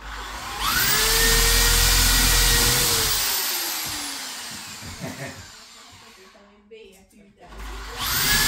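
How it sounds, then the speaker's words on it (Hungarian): A power drill whines loudly for a few seconds, its pitch sliding down as it bites into a brick wall, followed by knocks and scraping, then drilling resumes. "kell ennyit fúrni a falba"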